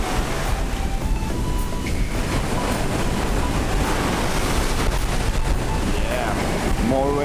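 Surf rolls in at Dahican beach in Mati, Philippines, a loud, continuous roar of breaking ocean waves mixed with wind buffeting the microphone.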